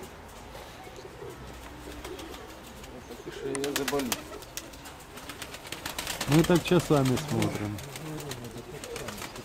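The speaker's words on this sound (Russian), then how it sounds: "кидает голубей" Pigeons in a backyard loft cooing and flapping their wings close by, bursts of rapid wing beats and low coos, while people talk over them.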